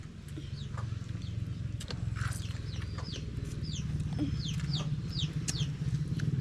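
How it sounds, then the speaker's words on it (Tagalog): Chickens cluck near a lobster lunch cookout, with short calls scattered over a steady low background hum, fairly close and with no talking. "Yung mga manok."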